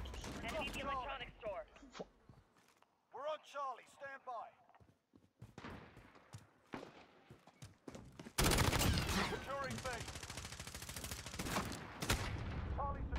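A Call of Duty Modern Warfare domination match, with sporadic game gunfire and bursts that give way to dense, sustained shooting in the latter half, while a person talks over the early part.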